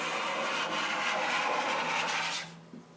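A card scraper takes very thin shavings off the edges of a wooden rope-tension snare drum shell, producing a close, continuous dry rasping scrape that stops abruptly near the end, with no talking.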